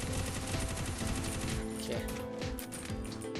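Rapid automatic gunfire sprays bullets in Free Fire during a zombie-mode stage, dense overlapping bursts loud at first, then thinning into scattered single shots with a brief voice underneath.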